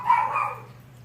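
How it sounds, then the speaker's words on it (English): A dog barks once indoors, a single drawn-out, moderately loud bark or yelp that fades over about half a second above a low steady hum. "That's his dog barking."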